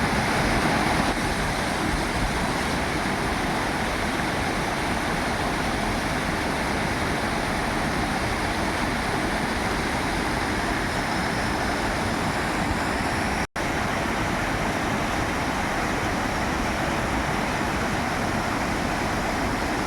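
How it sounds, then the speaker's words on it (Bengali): A small waterfall at Jungpana near Kurseong pours into clear water, giving a steady, unbroken rush of falling water that stays loud and even throughout, with no voices. "এদিকে আরও একটি ঝর্ণা।"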